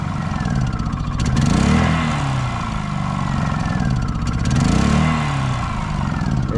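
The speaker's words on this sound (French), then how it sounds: "On commence à tousser. Le régime moteur varie." Honda generator engine running close and loud, its speed surging and dropping in two slow waves as it sputters with the fuel running out, a steady throbbing drone with no talk.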